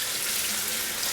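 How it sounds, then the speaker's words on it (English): Hot water gushing steadily from a kitchen tap while cooked mince is rinsed to wash out the fat, a constant close splashing hiss with no break. "I'm going to rinse that in hot water, and that will get rid of all the fat"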